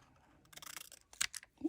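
Faint, quick scissor snips cut a paper Christmas advent tag in half at a crafting desk, a few soft clicks and a brief rasping cut in a quiet room.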